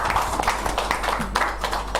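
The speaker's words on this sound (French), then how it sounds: "Applaudissez encore." An audience at an academic ceremony claps steadily in a dense, continuous patter of many hands, fairly close and even in level throughout.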